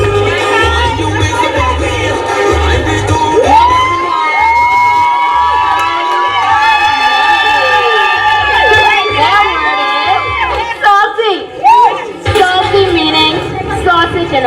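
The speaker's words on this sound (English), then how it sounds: "Let's give them a round of applause." A lively crowd at a school word parade cheers, whoops and shouts over a pulsing beat, with children's voices prominent and the noise staying loud and continuous before thinning briefly near the end.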